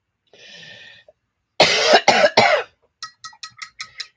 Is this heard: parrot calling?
no